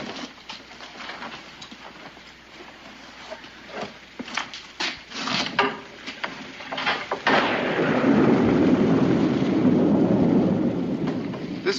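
Steady rain falls in an old frontier settlement while thunder rumbles and cracks through the first half, then the downpour swells into a loud, continuous roar with no speech.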